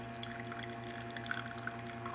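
A Profitec espresso machine pours a shot, its pump giving a steady tonal hum beneath a thin, continuous trickle of liquid, constant throughout with no speech.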